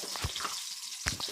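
Green chili tempering crackles and sizzles in a small spoon of hot oil, a close, busy frying hiss with brief pops, briefly dipping quiet before flaring up again.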